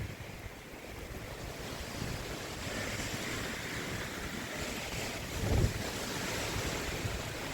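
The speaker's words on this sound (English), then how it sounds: "Very windy." Steady, strong wind roaring and buffeting across the microphone on the summit of Westkill Mountain in the Catskills, with a louder gust swelling briefly toward the end.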